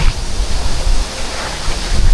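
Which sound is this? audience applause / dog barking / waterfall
waterfall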